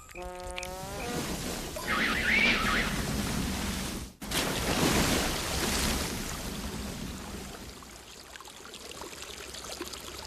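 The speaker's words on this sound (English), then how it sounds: "I wonder if I forgot to turn off the shower." A household shower runs continuously, a steady broad hiss of falling water that briefly dips before carrying on, opening with a short tonal chirp.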